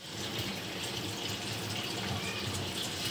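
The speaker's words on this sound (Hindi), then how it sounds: "और फौरन ही हम इस पे ठंडा पानी डाल देंगे।" Cold water poured over cooked sabudana (tapioca pearls) in a strainer in a home kitchen, a steady close hiss and splash of running water that continues unbroken throughout, with no talking.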